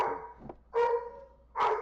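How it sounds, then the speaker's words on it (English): A big 106-pound labradoodle barks indoors, three loud separate woofs spread over two seconds, each a little ragged and drawn out, with quiet gaps between them. "Excuse the dog barking."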